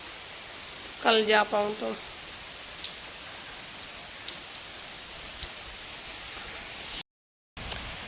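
Steady rain falls throughout a day-long downpour, a constant wash of hiss with a brief spoken phrase near the start and a short dropout near the end.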